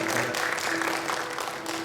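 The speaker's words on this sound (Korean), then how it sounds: "박수 한번 쳐주세요." A church congregation clapping during a worship service at Hanol Church, a broad, steady round of applause with a sustained tone running beneath it.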